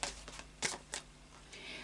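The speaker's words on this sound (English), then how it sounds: "we'll do a final shuffle of the Anarchy Tarot" Anarchy Tarot cards being shuffled, a few quiet, brisk riffling bursts separated by short pauses, close up and faint.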